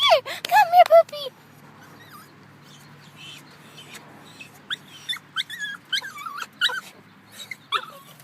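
A puppy whimpers and yips in a few sharp bursts at the start, then lets out high, thin whines scattered over several seconds against a quiet indoor background.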